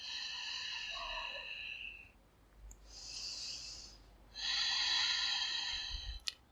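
Deep breathing during a beginner yoga pose: a slow breath, a pause, then two longer hissing breaths, close and quiet, with no talk.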